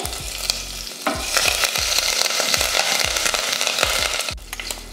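Hot oil sizzles and crackles steadily with mustard seeds, urad dal, dried red chillies, asafoetida and curry leaves while a utensil scrapes and stirs in a pan with a regular rhythm, close up and without speech.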